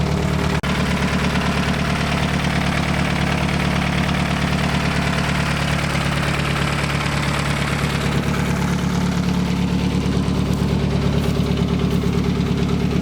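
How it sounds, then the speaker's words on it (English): A Chevrolet Cruze with an AWD swap idles loudly with its exhaust removed, a steady, close, throbbing rumble that runs unbroken throughout with no voices. "I don't have the exhaust on it at the moment, so it is kind of loud."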